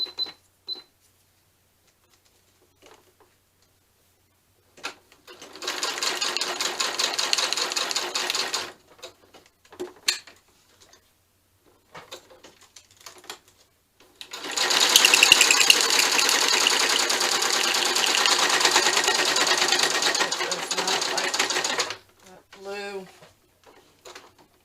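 A sewing machine runs a straight stitch in two bursts, a short whirring run and then a longer steady one. Quiet handling noises fall between the runs, and a little talking can be heard.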